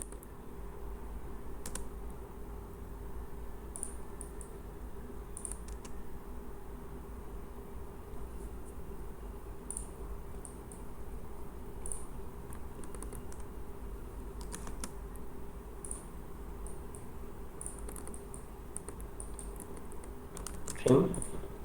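Quiet computer keyboard typing of AutoCAD commands, sparse light key clicks scattered over a low steady room hum, with one louder clack near the end and no talk.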